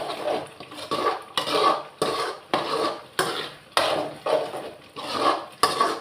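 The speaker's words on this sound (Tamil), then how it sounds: "நான் அப்பப்போ கொஞ்சம் மிக்ஸ் பண்ணி விட்டுக்கிடணும்" A utensil scrapes and knocks rhythmically against a cooking pot while food is stirred, giving repeated close strokes roughly every half second with no talking.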